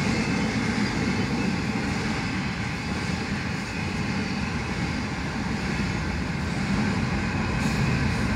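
A heavy, continuous rumble of a passing Union Pacific freight stack train, steady and loud throughout with broad low-frequency roar and no voices.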